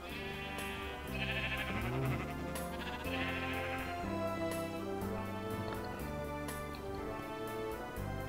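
Sheep in the Minecraft video game bleat several times in a snowy landscape, short faint calls over a steady background of game music.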